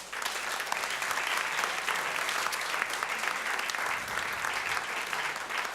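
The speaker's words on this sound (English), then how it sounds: "Give him one more hand of applause" Steady applause from an evening show audience, sustained dense clapping for about six seconds at a consistent level, with no speech over it.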